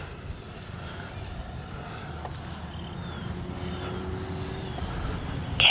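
An E-flite Viper 90mm electric ducted-fan RC jet on landing approach, a steady whooshing whine heard at a distance, holding fairly level and swelling slightly toward the end, with no voices.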